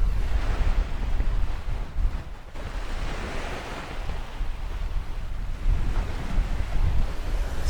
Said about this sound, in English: just to see if you can cut out the wind sound a little bit